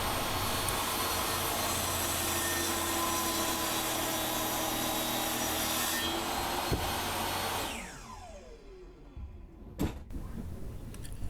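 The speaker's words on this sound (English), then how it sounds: "the most capable saw I have, obviously, is my table saw, so that's what I decided to use" Table saw cutting a wooden piece for a diesel trawler's bowsprit, a loud, steady whirring cut that stops and winds down, followed by a few knocks and workshop noise.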